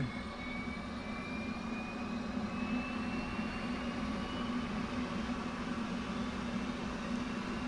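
F/A-18C Hornet jet engines spool up in the DCS flight simulator, a steady loud droning roar with a slowly rising whine on top, continuous and even with no talk.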